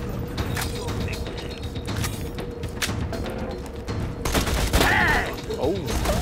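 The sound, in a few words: gunfire in the video game Borderlands 2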